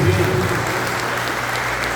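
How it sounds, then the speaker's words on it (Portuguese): A church congregation applauds at a Communion service, a dense, steady wash of clapping from many hands that stays loud and even throughout, with a voice briefly audible at the start. "Uma salva de palmas, irmãos"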